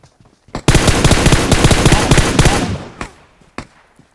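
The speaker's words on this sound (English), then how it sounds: "Okay, someone shot there." Loud automatic gunfire in the mobile shooter PUBG Mobile, a sharp opening shot followed by a rapid, continuous burst of about two seconds, then a few isolated cracks trailing off.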